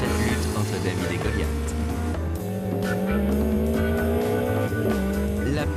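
Renault Alpine A110 and a Porsche racing closely on a rally stage, engines roaring loud and continuous with rising revs and tyre noise throughout, under French commentary.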